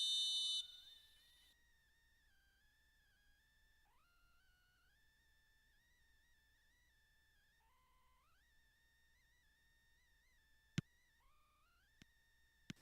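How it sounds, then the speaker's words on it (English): A referee's whistle in the PES football video game, long sustained tones repeated several times with pitch steps, fairly faint, with a few sharp clicks near the end. "There's the whistle, and here we go."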